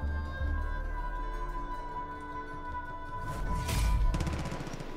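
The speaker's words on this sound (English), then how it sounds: "Whoa, immediately I hear gunfire." Gunfire rings out from a shooting range in the game Far Cry New Dawn, a burst of rapid shots swelling near the end over a steady tonal hum, with no talking.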